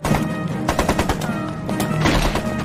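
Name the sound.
machine gun fire in a film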